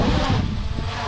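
JJRC X5 GPS drone propellers whir in a steady, loud, close buzz for about a second, with broadband wind-like noise and no speech.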